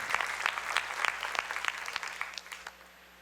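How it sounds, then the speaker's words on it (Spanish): A church congregation claps loudly at first, then the applause thins and fades toward the end, with no talk over it. "¿Cuánto le da un aplauso al Señor por eso?"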